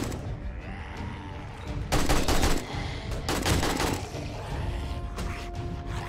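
Automatic AK rifle fire from a 7 Days To Die firefight, with dense bursts of rapid shots swelling loudest in the middle and continuing in shorter volleys over a steady rumbling background, no talking.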